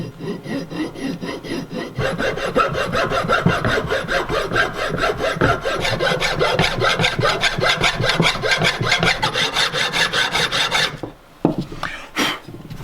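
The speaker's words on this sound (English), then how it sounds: "I'm going to use a big long file and I'm just going to put it on like that and rub it gently to take the powder coating off." A big long file rubbed flat across a car part to strip powder coating, with steady rhythmic rasping strokes that run loud and close for about eleven seconds before stopping, followed by a couple of brief scrapes.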